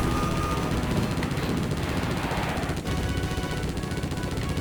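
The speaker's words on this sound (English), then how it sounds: "Attack choppers." Attack helicopters in the Konami arcade rail shooter Operation Thunder Hurricane, a loud, steady roar of rotor and engine noise filling the scene without pause, with a sharp thump of game effects partway through.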